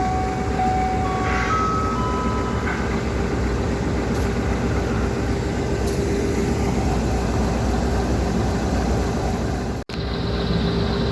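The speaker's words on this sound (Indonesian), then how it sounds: "Kita tunggu bersilang dengan kereta api Probowangi." A Probowangi passenger train rolls past at a crossing in Indonesia, a steady loud rumble filling the whole stretch with a few faint high tonal squeals early on and a brief cut near the end.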